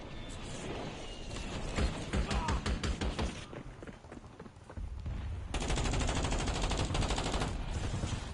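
Rapid bursts of video game gunfire crackle through a battle royale match as gas closes in, with loud repeated shots in the opening seconds, then a dense sustained barrage toward the end.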